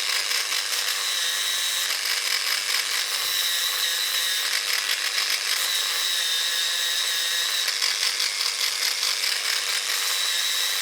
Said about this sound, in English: you can carve this away with a knife or use a bit of sandpaper